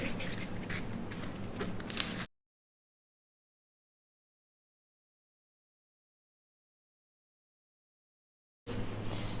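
A pencil traces lines on a cake dummy template, giving a scratchy scraping sound for about two seconds, then dead silence, then the scratching briefly resumes at the end.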